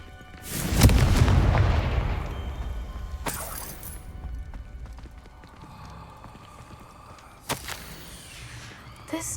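A Confringo fire spell bursts in a Harry Potter video game, one loud booming blast that rumbles away, followed by sharper thuds and clatters later on.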